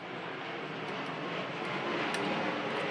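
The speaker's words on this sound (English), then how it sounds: "let me wait for the plane." A passing airplane roars overhead as a broad, steady rushing drone that swells gradually louder across the whole stretch. No voices are heard.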